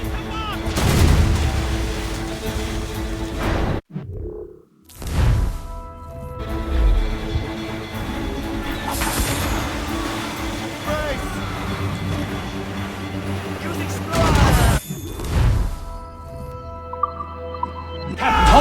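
Ship cannons firing in the video game Assassin's Creed Rogue, heavy booming shots in clusters that rumble between blasts, with talk over parts of the scene.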